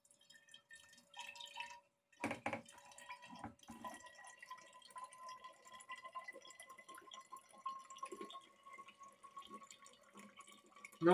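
A small tap trickles homemade cashew juice into a bottle, a faint, close stream of dripping and pouring with a few sharp clinks early on, in a quiet room.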